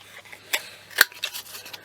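Scissors round off the edges of a paper piece for a December journal, making a few quick, close snips with one sharp cut standing out, no talk.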